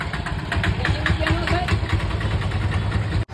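A 100-year-old car engine idles steadily with a low, uneven rumble and faint knocking, continuous and close throughout, with some background noise.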